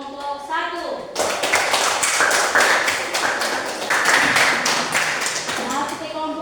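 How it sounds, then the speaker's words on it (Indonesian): A classroom group of students bursts into loud, dense clapping that lasts several seconds and then tapers, with a teacher's voice heard briefly before it starts and children's voices at the end. "Kita beri aplaus kepada kelompok 1"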